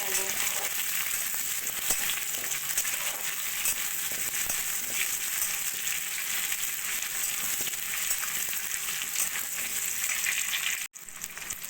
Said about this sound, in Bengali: আমড়াগুলোকে এভাবে একটু তেলের মধ্যে ভাজা ভাজা করে